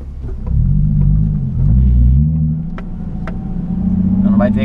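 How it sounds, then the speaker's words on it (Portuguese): A Nissan 370Z rumbles from inside the cabin as the driver accelerates. The deep engine drone swells and falls with the revs, and people talk over it. "Nessa reta aqui para acelerar, vamos ter que dar uma aceleradinha um pouquinho mais forte aqui."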